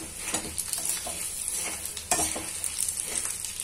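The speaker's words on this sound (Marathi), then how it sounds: "त्यासोबतच आपण टाकत आहे तीळ" Sesame seeds sizzle in oil in a pan while being stirred for a savory snack mix, a soft steady frying hiss with occasional scraping strokes of a spoon, fairly faint and close, no talking.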